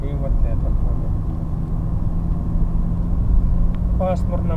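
Cars drive past on a road through farm fields under overcast skies, headlights on, their steady engine and tire rumble continuous and moderately loud, with a brief higher whine near the end.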